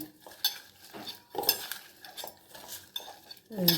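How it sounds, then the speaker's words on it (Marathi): Rice flour being mixed with salt by hand in a bowl, soft irregular rubbing and stirring scrapes with occasional light clinks, close and quiet. "थोडंसं चुळून घ्यायचं हाताने"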